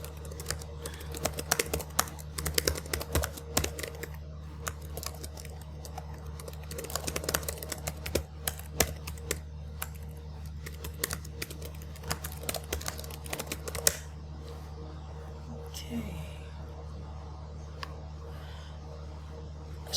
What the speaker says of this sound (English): after you have typed in your instructions